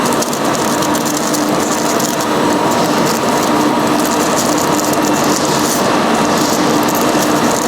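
A twisted paper rope making machine runs continuously with a steady, loud mechanical clatter and whir, its rhythmic ratcheting texture unbroken and close by, with no talking.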